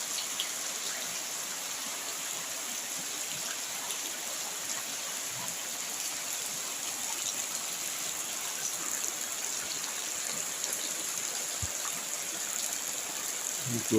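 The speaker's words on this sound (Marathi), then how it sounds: "तुम्हाला ऐकू असे पावसाचा आवाज" Steady monsoon rain in Konkan falls continuously for a long stretch, an even hiss with no voices and only faint scattered patters.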